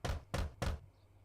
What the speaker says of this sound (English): I knock on the door again, slightly harder